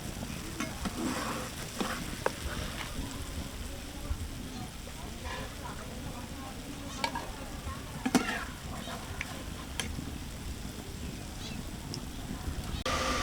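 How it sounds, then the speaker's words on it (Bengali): Kalojam sweets frying in hot oil, a steady low sizzle with occasional stirring clicks and scrapes throughout, fairly quiet and continuous. "মিষ্টিগুলো সুন্দর করে ভাজা হয়ে গেছে"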